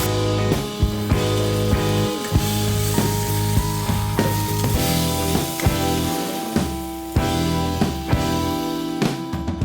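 Steady, loud sizzling of beef cheeks searing in hot oil, with occasional sharp clinks and scrapes from a pan or utensil.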